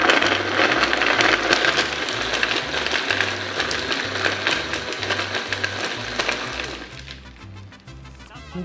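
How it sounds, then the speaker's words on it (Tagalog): A blender grinds a mojito loudly with ice clattering and crunching inside, then the motor cuts out near the end. "Into the blender."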